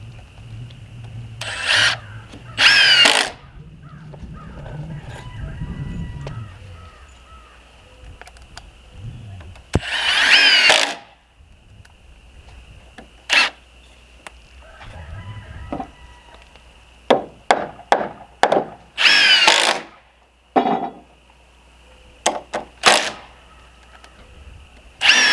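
Power drill driving screws into wooden window framing of a post frame barndominium, several short whirring bursts in irregular succession with quieter workshop noise and knocks between them.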